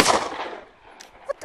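A single AR-15 rifle shot cracks loudly at the start and fades quickly, followed by faint handling clicks.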